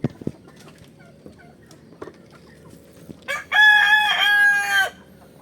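Native chickens cluck and scuffle faintly in a quiet yard before a rooster lets out one loud, clear crow lasting over a second at close range.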